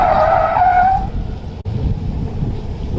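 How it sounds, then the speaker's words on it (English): An autocross car at an SCCA event skids as too much throttle is applied coming out of a corner, giving a loud tire squeal for about a second, then engine and road noise continue. "A little too much gas coming out of the corner there."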